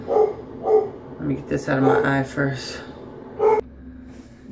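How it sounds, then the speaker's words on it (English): A house dog barks a few sharp times nearby after a doorbell, mixed in with someone talking indoors. "Excuse my dog."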